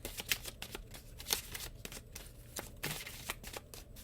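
Oracle cards from a 22-card Archangel deck by Kyle Gray being shuffled by hand, a close, quiet run of soft riffling slaps and flicks in an irregular rhythm with no voice.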